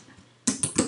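A folder name is typed on a computer keyboard. A few quick, crisp key clacks land in a short burst after a quiet moment, close and clear, with no voice.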